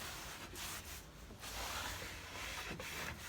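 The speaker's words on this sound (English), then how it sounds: "So I just put it on with a cloth and rub everywhere." A cloth rubs wood stain across a coffee table in soft, continuous back-and-forth swishes, quiet and close, with no voices.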